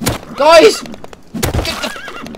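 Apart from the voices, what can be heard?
horse neighing and hooves in the video game Rust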